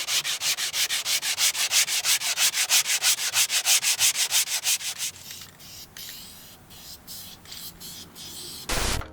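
Hand sanding a custom car fender with 50-grit sandpaper on a large block, a fast steady run of rhythmic rasping strokes that then slows into scattered, quieter scrapes with one final loud rub.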